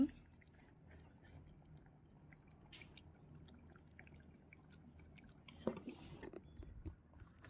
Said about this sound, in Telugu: ముక్క తింటున్నాను ఎలా ఉందో